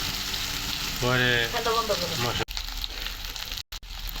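Dried fish sizzles steadily in hot oil, a broad close frying hiss with a speaking voice over it, and the sizzle continues on its own after the talk stops.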